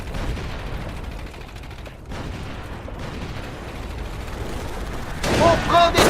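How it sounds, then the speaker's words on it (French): Scattered rifle shots and distant gunfire crackle under a busy background in the World War II video game Company of Heroes, growing louder near the end, with voices shouting in French in between. "On prend des tirs de fusil!"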